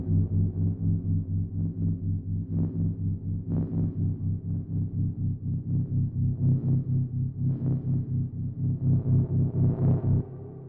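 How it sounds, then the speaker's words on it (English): A sustained, droning synth pad with a slow pulsing throb and washy reverb tails, steady and moderately loud, fading out at the end. "Our reverb is coming in."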